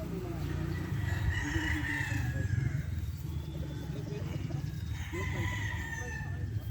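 A Boston Black game fowl rooster crows twice at a farm, each long call rising clearly over steady background noise, with a pause between them.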